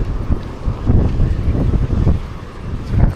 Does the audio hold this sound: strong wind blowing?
yes